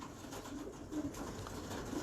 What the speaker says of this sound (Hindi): अभी मैं आप लोगों को एक कबूतर दिखाता हूँ